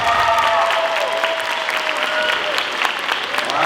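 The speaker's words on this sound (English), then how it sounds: "Let's please give Mr. Holt one more round of applause." Audience at a school presentation event breaking into steady, dense applause that carries on evenly throughout, with faint voices mixed in.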